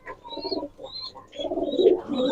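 High flyer pigeons, imported from Pakistan, coo on a farm with soft, close, repeated calls in uneven bursts and no voices.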